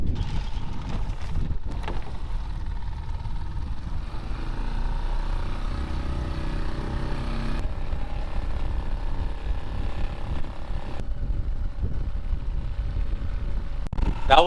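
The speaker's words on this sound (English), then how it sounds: "I'm gonna turn on the outboard engine" An outboard engine motors a small boat along, a low steady drone under wind buffeting the microphone, fairly quiet, with occasional mechanical clicks.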